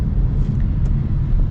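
A 2025 Chevy Trax or Trailblazer with a three-cylinder engine accelerates, its steady, loud low engine drone and road rumble heard from inside the cabin with no speech.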